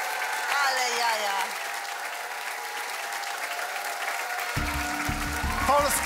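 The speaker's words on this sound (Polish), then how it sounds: "Wielkie brawa!" A studio audience applauds on the Polish game show The Brain after a Polish contestant beats a Spanish rival in a magic-square puzzle. The clapping is dense and steady for about six seconds, and a low musical sting enters near the end.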